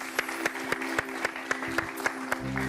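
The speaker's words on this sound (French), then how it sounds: "On va les applaudir très fort" Audience claps for two young girl singers on a Christian TV program, a short burst of rhythmic, evenly spaced clapping over a low steady hum.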